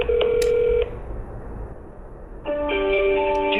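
Outgoing telephone call to Duke Energy ringing on the line, two electronic ring tones separated by a quiet pause, close and clear.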